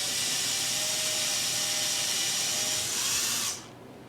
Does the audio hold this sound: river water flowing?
no